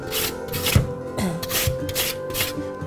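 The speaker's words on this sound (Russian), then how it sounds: "Но нам придется делать это на этой терке." Potato grated by hand on a borrowed grater, steady rhythmic rasping strokes, close and loud, repeating about every half second.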